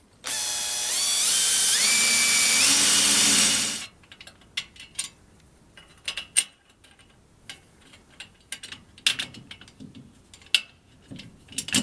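A power tool whirs loudly for about four seconds, its pitch rising as it drives a bolt while a winch is fitted onto a bandsaw mill. Scattered ticks and clicks from the tool and metal parts follow.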